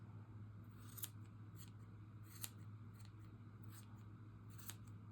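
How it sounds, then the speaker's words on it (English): Scissors snip a full yarn pom-pom for knitted slippers, giving faint crisp cuts in irregular clusters over a low steady background hum. "then I trim it up and make it perfect"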